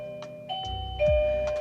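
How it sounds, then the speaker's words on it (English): Altar bell struck during an ancestor offering ritual, clear ringing tones with a couple of strikes and a low thump, heard close and moderately loud. "sooner or later they're going to hit that bell"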